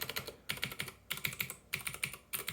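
A Keychron K6 mechanical keyboard with blue switches being typed on, sharp clicky keystrokes in quick rhythmic bursts separated by brief pauses, close and quiet, no talking.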